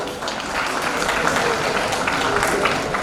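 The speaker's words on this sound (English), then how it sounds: "applause, please" Audience applause at a community gathering marking Australia Day and Indian Republic Day, a steady wash of clapping with some crowd noise mixed in.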